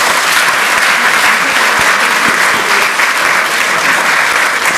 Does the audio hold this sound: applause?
yes